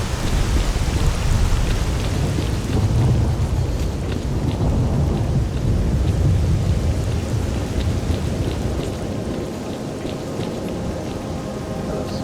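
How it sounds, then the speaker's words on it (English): Heavy rain falls steadily in the STALKER Anomaly game world, with deep thunder rumbling throughout and no voices over the downpour. "It's still raining."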